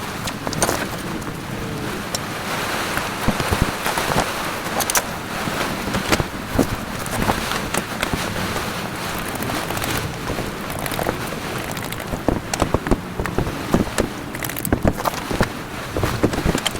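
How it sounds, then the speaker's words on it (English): Steady rain falls outdoors during roadside repair work on a VW Polo 6N2 gearbox and clutch. A dense, constant hiss with scattered louder patters runs throughout, and no one speaks. "I'll keep the rain off us a little bit at least."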